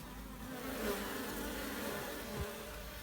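Honey bees buzz steadily in a dense, droning hum, close and continuous, with a few individual insects passing near, in cold weather.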